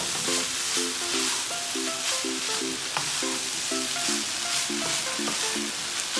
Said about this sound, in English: just take your time and use the spoon and mix it